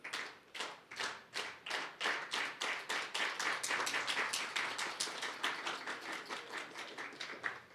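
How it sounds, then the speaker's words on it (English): An audience at a business talk performs a cricket-match-style slow clap: loud, unified handclaps that begin spaced apart and steadily quicken into a fast, even rhythm, with no talking. "So we're going to do a slow clap starting now."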